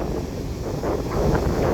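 Strong wind buffets the microphone with a continuous rough rumble and gusty swells, no other sounds standing out.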